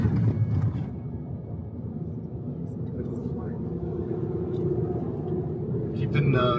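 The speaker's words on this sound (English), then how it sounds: "We're back in Tokyo traffic." Tokyo city traffic heard from inside a camper van, a steady low rumble of road and engine noise running throughout with faint passing vehicle sounds, fairly loud and continuous.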